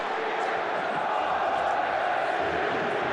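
Stuttgart versus Hoffenheim football stadium crowd, a broad, steady roar of cheering and chanting fans holding at an even level.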